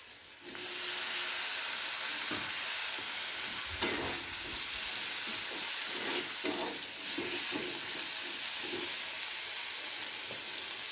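Chopped tomato dropped into onions frying in a pan, a steady loud sizzle and hiss that swells as the pieces hit the oil, with scattered stirring scrapes and clatters throughout.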